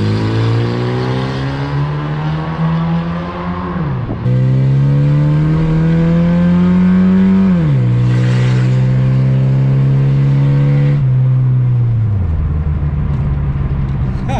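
A Volkswagen Golf engine revs repeatedly and loudly from close by. It climbs through several rising sweeps, holds high, then drops back, with a steady throaty drone between revs and no talking.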